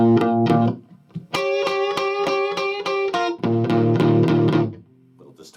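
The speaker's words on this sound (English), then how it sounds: "Little distortion there." Electric guitar played in double stops through a distortion effect, several bursts of bright buzzy chords with short gaps between them, loud and close.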